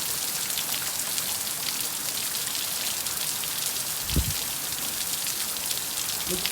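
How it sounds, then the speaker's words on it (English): Steady, dense hiss of wind-driven rain during Hurricane Zeta, blowing off a building, constant throughout, with a brief low thump partway through. "Look at that rain. See how that rain is blowing off that building right there?"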